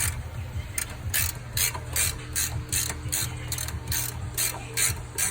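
A hand ratchet clicks rapidly in repeated bursts while removing suspension bolts on a 2019 Dodge Charger Scat Pack, close and crisp, with no talking.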